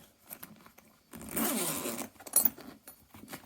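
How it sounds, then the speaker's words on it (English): The new, slightly stiff zip on the main compartment of a Velocity Rogue 2.0 tool bag is pulled open in one rasping stroke, close and fairly quiet, followed by small handling rustles. "when we actually open up the main compartment, again, new zips, so they're a little bit stiff"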